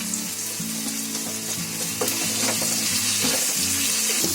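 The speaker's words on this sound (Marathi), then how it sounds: "आता टोमॅटो पण चांगली आहे ना फ्राय करून घ्यायची" Finely chopped tomatoes fry with onion and ginger-garlic paste in a pan for Bombay biryani, a dense, continuous sizzle that grows a little louder partway through, with light stirring scrapes.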